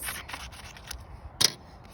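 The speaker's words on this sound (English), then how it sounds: "we get the cardboard that you got in your pack, and you can cut out another 2 rings" Scissors snip through thin cardboard while rings are cut out for a homemade bird feeder, several quick close crisp cuts with one louder snip near the end.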